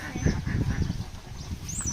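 Australian-breed ducks kept on a village pond give a few brief honking, goose-like calls close by over a low background murmur, with no clear speech.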